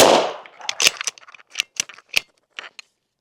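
A suppressed bolt-action .300 Blackout rifle in short configuration, firing Atlanta Arms ammunition, gives one loud close shot with a sharp crack and a brief tail, followed by a series of metallic clicks and clacks as the bolt is worked.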